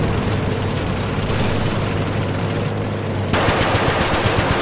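Gunfire in the War Thunder video game, loud sustained rapid bursts over a dense rumbling background, with a sharper, harsher stretch of shots near the end.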